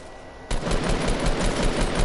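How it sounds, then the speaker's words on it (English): Automatic gunfire in a video game shooter, a sudden loud burst of rapid shots that begins after a brief quiet moment and keeps rattling steadily to the end. "There's someone shooting at you."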